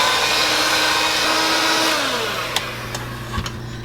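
An electric mixer blends mashed potatoes with baking powder, salt and pepper in a home kitchen, a steady close whirring drone that slowly drops in pitch, ending with a few light clicks and knocks.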